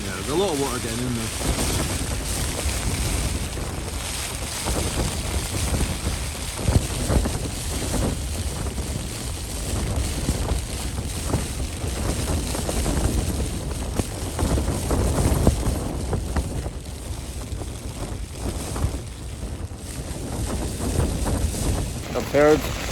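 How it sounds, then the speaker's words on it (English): Strong gusts over 40 mph buffet the microphone on a Scottish mountain summit while rain drums steadily on a Hilleberg Soulo tent close by, a constant rushing roar for the whole stretch. "Pretty windy, and the rain's full on now."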